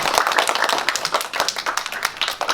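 A class audience claps for a student named Harrison, a short burst of brisk, uneven hand claps over about two and a half seconds, fairly close and lively.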